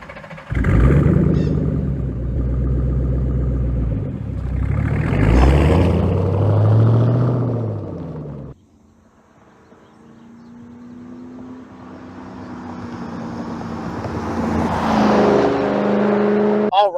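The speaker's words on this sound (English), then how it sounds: "You want as badly as I want to see this thing out on the road burning gas." A 2008 Ford Mustang GT rumbles and accelerates on the road, its engine revving loudly and close, easing off and then building again.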